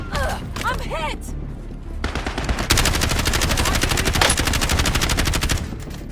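Gunfire in Call of Duty ranked play, with a few sharp single shots and then a long sustained rapid automatic burst, loud and close, while radio-style voice callouts play over it.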